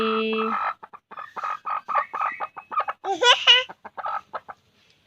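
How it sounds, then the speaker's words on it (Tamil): A chicken clucks and cackles close by in a rural yard, a rapid series of short choppy calls rising into a louder squawking burst, with no talk. "கோழி"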